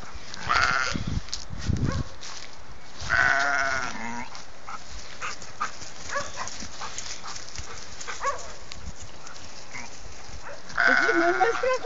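A flock of sheep bleats repeatedly with loud nearby calls among them, while a dog barks in bursts; farm animal noise runs throughout.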